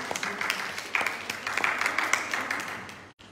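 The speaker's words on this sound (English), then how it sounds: "Let's have a clap for our volunteers." Church congregation clapping for volunteers during a Sunday worship service, a steady round of applause lasting about three seconds before stopping abruptly, with a faint voice beneath it.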